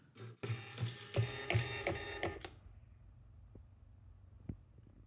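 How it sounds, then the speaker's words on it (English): A label printer feeding and printing inventory labels, a quiet run of mechanical clicks and whirring strokes for about two seconds, then near silence broken by one faint click. "And it printed 4 labels that we want."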